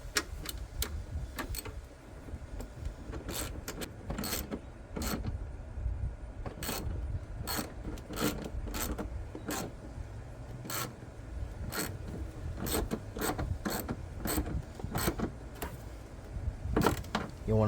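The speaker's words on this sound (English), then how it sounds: "And tighten it back up." Ratchet tightening a car battery hold-down under the hood, a long run of sharp, evenly spaced clicks in quick bursts heard up close, repeating over many seconds without speech.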